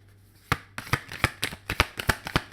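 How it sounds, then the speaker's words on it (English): Tarot advice cards are shuffled close by, a steady run of about a dozen crisp riffling snaps at an even, quick rhythm, alone against a faint hum with no voices. "I'm going to pull some advice cards."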